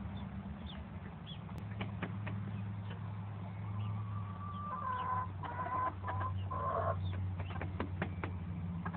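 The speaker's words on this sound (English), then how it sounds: "little meet and greet with the new chickens." Several chickens cluck and murmur close by, with a few sharper squawks, over a low steady hum.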